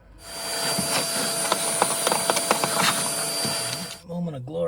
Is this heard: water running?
no